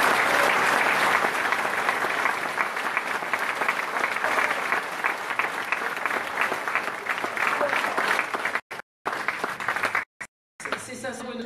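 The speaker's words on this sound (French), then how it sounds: "Je vous demande de l'applaudir bien fort." Loud, sustained clapping from a crowd at a French political gathering honoring a Republican senator, dense and continuous for several seconds before breaking off abruptly near the end.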